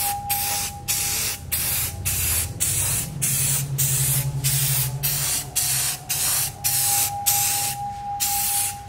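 Flat white spray paint is applied to a plastic Jason-style hockey mask in a series of short, loud, close hissing bursts, separated by brief gaps.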